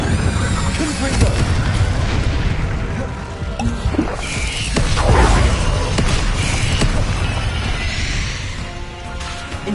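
Blasting spell explosions from the Hogwarts Legacy wizarding game, booming bursts and crashes repeating through the whole stretch amid loud, dense combat noise, with a voice mixed in.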